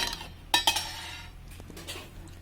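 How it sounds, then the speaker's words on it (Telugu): Metal pot lid set onto a cooking pot of chicken simmering for noodles, two quick sharp clinks close by followed by a faint low bubbling hum. "మంచిగా మనం మూత పెడదాం."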